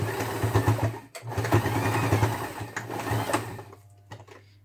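A sewing machine stitches a double-zip pencil case in two fast runs of humming needle strokes, with a brief pause between, ending in a quiet stop and a couple of soft clicks.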